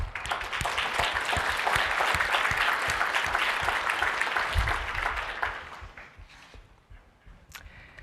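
Conference audience applauding during opening remarks and a best paper award, a dense, steady wash of many hands clapping that fades out over the last couple of seconds.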